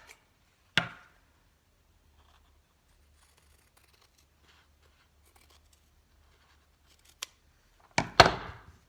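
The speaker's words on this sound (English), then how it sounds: "I'm going to cut this end and do that end as well." Scissors cutting cardboard and a Tyvek envelope in a quiet room, a few sharp, close snips spaced far apart with a short cluster of cuts at the end.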